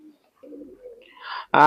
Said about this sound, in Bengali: টপ কোয়ালিটির দুইটা চীনা কামাগার কবুতর